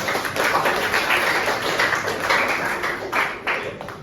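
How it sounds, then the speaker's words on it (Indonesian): Students in a classroom group discussion applaud together, giving a steady, moderately loud patter of many overlapping claps that thins toward the end. "Mari kita beri tepuk tangan dulu untuk kelompok"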